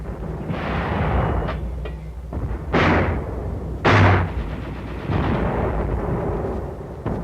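Mortar and artillery fire during the World War II battle of Saipan booms in several heavy, rumbling blasts with sharp onsets, separated by a low continuous battlefield roar.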